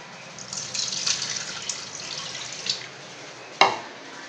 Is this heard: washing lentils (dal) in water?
yes